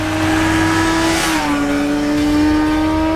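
A Suzuki GSR 600 motorcycle accelerates with a loud, steady engine drone whose pitch shifts as the throttle opens, close and continuous throughout.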